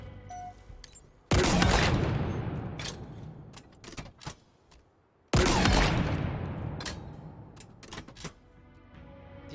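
Skewer weapon firing in Halo Infinite, two loud, sharp blasts, each with a long decaying rumble, separated by a few seconds and trailed by scattered clicks and smaller impact noises.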